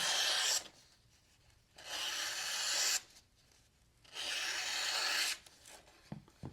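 Three long rasping slices of a coated Benchmade Bugout or Kershaw Bel Air knife blade drawn through material, evenly spaced with short pauses between, close and fairly loud, with no voices.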